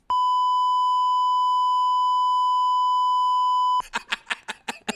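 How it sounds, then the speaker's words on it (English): A loud, steady censor beep tone holds for about four seconds, then cuts off abruptly as a voice begins speaking. "You might want to beep out what he's going to say next."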